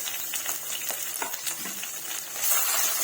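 Ginger, garlic and crushed coriander sauté in a pan on a low simmer, making a soft crackling sizzle with light stirring scrapes that grows slightly louder near the end.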